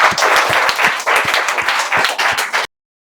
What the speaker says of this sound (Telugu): వీళ్ళందరూ చప్పట్లతో మీకు స్వాగతం తెలియజేస్తున్నారు